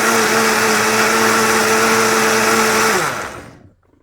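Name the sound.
blender blending ginger with juice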